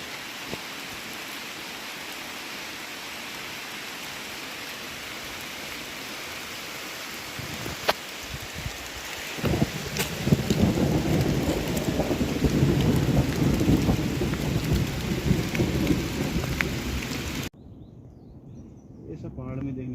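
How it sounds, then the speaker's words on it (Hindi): Heavy rain in the mountains on the Madmaheshwar Temple trek in Uttarakhand: a steady, dense hiss of rainfall swells into a louder downpour roar halfway through and continues close and constant. "और बारिश इतनी तेज़ है कि ये पेड़ के नीचे भी काफ़ी भीगा रही है।"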